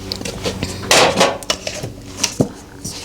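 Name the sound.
mixing bowl being handled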